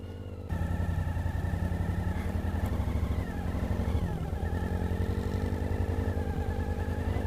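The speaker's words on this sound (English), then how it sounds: "trying to get her bike into gear" Dual-sport motorcycle in muddy conditions being put into gear and ridden off, with a Yamaha 110cc and a Suzuki V-Strom 650cc in the ride; a close, steady engine chug picks up and holds, with slight revving and no talk.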